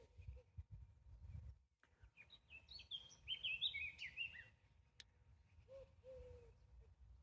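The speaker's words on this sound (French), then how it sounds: "Je laisse exprès les oiseaux s'exprimer, je trouve qu'on a besoin de nature en ce moment." Birds sing and chirp outdoors in bursts of high, bright notes, a flurry of calls in the middle and a shorter call near the end, over a low rumble of background noise.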